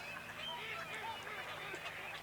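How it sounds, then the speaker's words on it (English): Several drake teal, small ducks, give soft whistling and piping calls during a courtship display over one or two females, a continuous chattering chorus at a moderate distance with no talk over it. "5, 6, 7 drake teal, the smallest of all our duck, displaying for the favours of 1 or 2 females"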